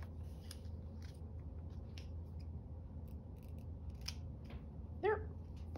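Scissors cut craft material in a few quiet, close snips spread out over a faint background hum, with one sharper crinkling cut near the end.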